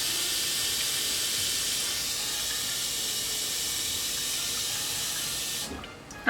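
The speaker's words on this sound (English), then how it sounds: "I'm gonna get really hot water, and I'm gonna fill the hot water all the way to the top" Very hot tap water runs steadily into a pot being cleaned, a constant bright hissing rush that holds for several seconds and then cuts off abruptly near the end.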